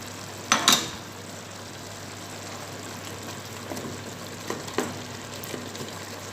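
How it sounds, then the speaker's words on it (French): Potatoes, chili and carrots drop into a cooking pot of thiou viande, a couple of sharp splashing thumps and stirring clatter over a soft steady sizzle. "J'ajoute les patates, le piment et les carottes."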